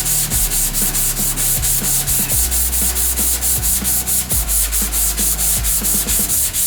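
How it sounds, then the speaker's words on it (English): Hand block sanding of a Honda Civic's body panels with 220 to 320 grit sandpaper, a fast, continuous run of rhythmic rasping strokes, loud and close, with no talk. "We have to block sand everything by hand. I am using 220 to 320 grit."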